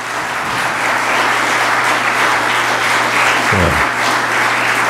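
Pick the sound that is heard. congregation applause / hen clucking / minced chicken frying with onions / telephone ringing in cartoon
congregation applause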